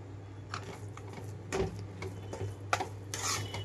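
A utensil stirs coriander into wheat rava upma in a pan, giving soft scraping and tapping strokes in irregular bursts over a quiet low hum, heard close up.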